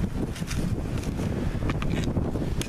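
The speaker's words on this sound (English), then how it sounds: "this wind. It's really crazy." Strong winter wind blows straight into the microphone outdoors, a loud, continuous rumbling buffet with gusty surges that lasts the whole stretch, with no voices.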